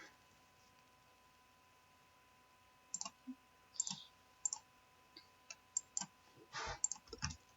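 Quiet, close computer keyboard typing comes in short irregular bursts of light clicks after a few seconds of near silence, with no talking.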